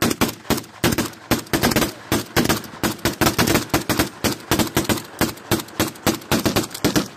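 Rapid bursts of gunfire in combat during the 44-day Karabakh war, close and loud, firing in quick repeated volleys and stuttering automatic strings throughout with no pauses of calm.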